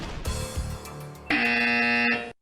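A sharp electronic buzzer blares with a sustained bright tone for about a second, following a brief burst of jingly musical stings.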